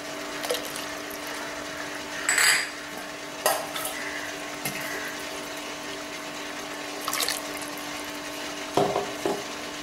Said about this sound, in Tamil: புளிக்கரைசல் தண்ணியை ஊற்றிக்கிட்டுருவோம்.